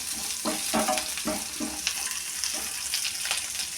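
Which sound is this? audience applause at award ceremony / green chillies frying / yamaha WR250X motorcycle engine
green chillies frying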